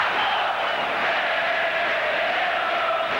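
A 1980 Campeonato Carioca football match between Fluminense and Vasco da Gama, with Vasco fans in the stadium raising a constant, dense crowd roar that fills the whole stretch.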